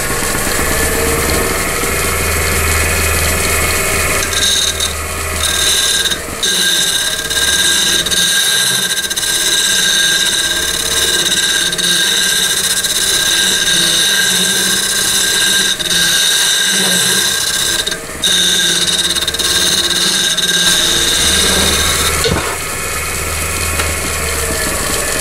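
A wood lathe runs with a steady, continuous loud whir throughout, with brief dips and scraping bursts as a tool cuts the inside of a spinning segmented wooden bowl.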